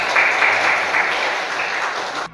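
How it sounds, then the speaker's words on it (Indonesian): Classroom applause from students, a steady dense wash of clapping that holds at even loudness throughout and stops abruptly at the end. "Ya, kita beri tepuk tangan."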